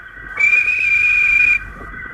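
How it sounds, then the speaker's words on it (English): A railway guard's whistle gives one steady, shrill blast of about a second, loud and close over a low background rumble. "The guard waved his flag and blew his whistle."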